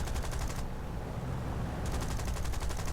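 Lancaster bomber's automatic turret gunners firing in a realistic-mode air combat game: steady rapid machine-gun bursts over a constant engine drone, pausing mid-clip before resuming, close and loud with no talk.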